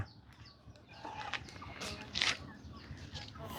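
Young chickens cluck and squawk in a Thai farmyard, a few brief sharp calls rising over a quiet background of rustling and distant murmur.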